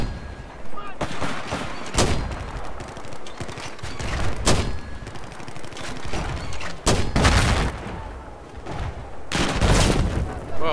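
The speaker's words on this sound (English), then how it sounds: "someone counter-mortared my mortar" Mortar fire and explosions on the Golmud Railway map in Battlefield 4, a string of loud booming blasts and gunfire bursts recurring every couple of seconds, some near and sharp, others duller.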